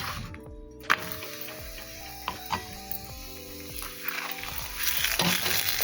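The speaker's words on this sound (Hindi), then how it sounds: "इस तरीके से तेल लगा के इस तरीके से सेक लिया मैंने।" A bathua (lamb's quarters) paratha roasts with oil on a pan over a gas flame, giving a steady soft sizzle with a few sharp clicks and scrapes, close and moderately quiet.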